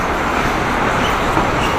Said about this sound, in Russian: слышно только машину, как ездят на улице